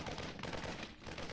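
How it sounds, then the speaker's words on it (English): Rapid, continuous gunfire from StarCraft 2 Marines shooting at destructible rocks, a dense, steady burst that fills the whole moment at moderate level. "get both Marines firing at this rocks"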